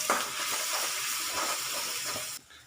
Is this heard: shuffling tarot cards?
no